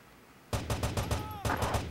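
Gunfire in the Rainbow Six tactical shooter game: a quiet half second, then a rapid burst of loud shots, a brief pause and another burst, with a faint whine underneath.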